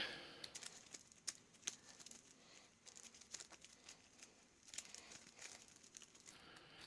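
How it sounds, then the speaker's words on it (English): Sleeved game cards for the Mage Knight board game mashed together in a shuffle, giving a soft crinkly papery rustle with light patters, quiet and close, with no talking. "at least you can sort of mash them together like this fairly easy"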